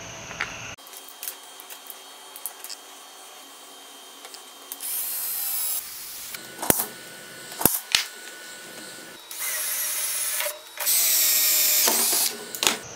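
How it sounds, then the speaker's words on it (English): Power drill boring holes for truck awning brackets, in several separate loud bursts of whirring separated by quieter pauses and sharp clicks and knocks. "we're gonna get our holes drilled and get this thing put together."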